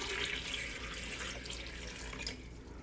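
Water pours into a blender holding stinging nettles for a green juice, a soft, continuous splashing trickle heard close up for a few seconds, fairly quiet and with no talk.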